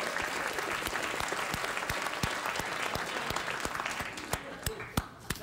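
A late-night talk show studio audience applauds in a steady, dense wash of clapping that thins after about four seconds into a few louder individual claps, some of them near.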